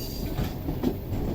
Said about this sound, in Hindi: इस वक्त हमारी ट्रेन मेनलैंड 2 पर चल रही है